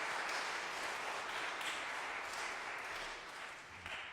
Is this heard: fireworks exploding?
no